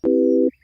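A steady, pure synthesizer sine-wave tone holds evenly for about half a second, then cuts off cleanly, leaving near silence.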